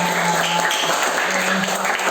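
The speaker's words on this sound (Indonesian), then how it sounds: "Tepuk tangan buat kita semua" Schoolchildren at an Indonesian elementary school assembly clap together in a dense, steady burst of applause that fills the short moment, with some faint voices mixed in.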